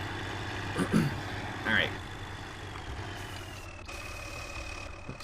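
Ursus 1614 tractor in Farming Simulator 2013 idling with a steady low drone and a faint whine throughout, while someone speaks briefly over it near the start.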